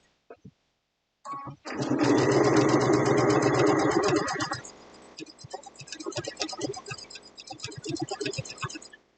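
A sewing machine runs in a fast, dense burst while stitching machine appliqué, then slows into shorter, uneven runs of stitches and clicks.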